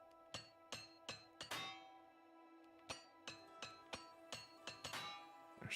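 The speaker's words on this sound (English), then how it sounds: "Hammering like a boss." Repeated metallic hammer strikes from armour being repaired in Elder Scrolls IV: Oblivion, ringing clinks in two quick bursts of about five blows each with a short pause between, fairly faint and with no talking.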